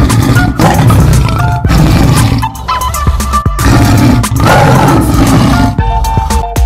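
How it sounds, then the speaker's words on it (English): A tiger roars repeatedly, loud, close and gravelly, in a series of long rumbling bursts separated by brief pauses. "A tiger makes a grr sound."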